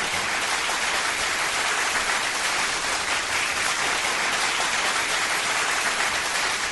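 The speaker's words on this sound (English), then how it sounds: "that applause was so languid and it's deafening" Applause from a studio audience at a comedy talk show, a steady dense wash of clapping that stays loud and even throughout with no voices over it.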